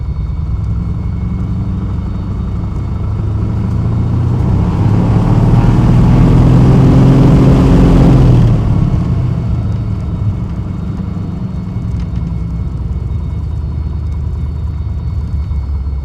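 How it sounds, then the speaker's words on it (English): A Piper Comanche 400's powerful aircraft engine runs up on the ground with brakes locked, a loud continuous propeller roar that swells to full power in the middle, holds for several seconds, then eases back to a steady idle drone. "This engine has so much power, it will drag the wheels in their locked position."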